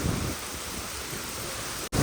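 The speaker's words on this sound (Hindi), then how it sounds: "भाई साहब ओले पड़ना शुरू हो गए हैं, लिटरली ओले पड़ रहे हैं यार।" Heavy rain mixed with hail pours down steadily as a dense, loud wash of noise close by, with a brief cutout near the end.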